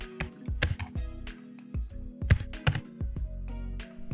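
Typing on a computer keyboard: close, irregular bursts of clicking keystrokes with short pauses between them, alone and fairly distinct.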